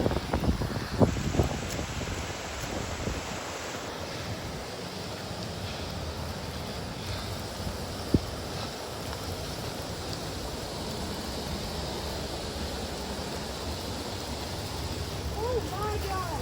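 A flooded mountain creek in the San Jacinto Mountains rushes in a steady, broad roar of water, continuous and loud throughout, with a couple of brief knocks and faint voices over the flow.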